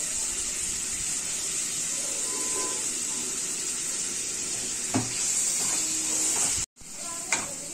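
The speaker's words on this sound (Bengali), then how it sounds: "এখানে আমি পেঁয়াজটা ঠিক মতো ভেজে নিয়েছি" Chopped onions fry in a pan as a constant close sizzling hiss, broken by a few spatula clinks and scrapes near the end and a brief cut in the sound.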